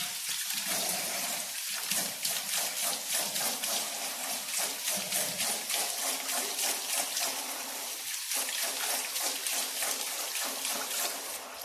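Cold tap water runs steadily while carrots are rinsed and rubbed with a small metal scouring pad, a constant splashing hiss with brief scrubbing and handling noises mixed in.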